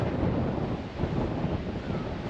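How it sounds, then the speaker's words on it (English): Steady, roaring Midwest wind buffets the microphone throughout, a dense low rumble with gusty surges and no voices. "the wind is really picking up now"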